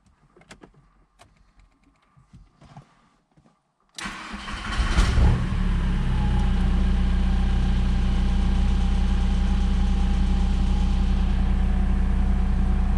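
After a quiet stretch with faint shop clatter, the engine of a VW T4 syncro van cranks and catches following an oil change, then settles into a loud, steady, close idle.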